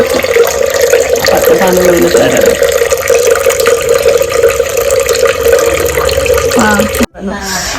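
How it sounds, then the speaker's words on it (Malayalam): Tap water runs steadily into a vessel as lentils are washed for sambar in a hostel kitchen. It is a close, continuous rush with voices talking over it, and it cuts off abruptly near the end. "നമ്മളിപ്പോ ഈ പരിപ്പ് കഴുകുകയാണ് ഗൈസ്"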